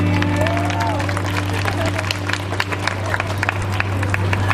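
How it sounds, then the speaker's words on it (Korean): Concert crowd applauding at a performance, steady clapping over a low constant hum, with a voice briefly heard through the noise. "박수 한번 주세요"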